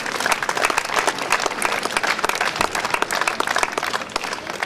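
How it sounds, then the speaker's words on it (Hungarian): A crowd at an outdoor harvest parade claps steadily and densely throughout, a continuous loud roar of applause with no pauses. "hogy egy tapsot megérdemel"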